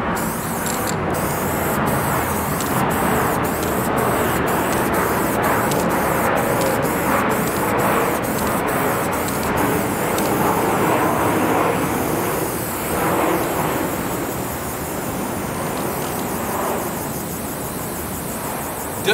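Stimpy spray paint hisses from an aerosol can in a long, nearly continuous broadband spray, with a few brief clicks early on and a slight drop in intensity near the end.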